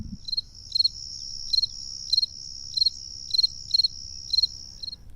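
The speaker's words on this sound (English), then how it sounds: "Crickets have a high-pitched chirp." Cricket chirping in regular high-pitched bursts, about nine short pulsed chirps evenly spaced over a steady high whine, close and clear with no other sounds.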